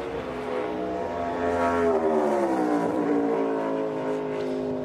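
NASCAR Cup Series cars circling the track during qualifying at Gateway, engines droning loud and continuous with rising and falling pitch as the cars pass.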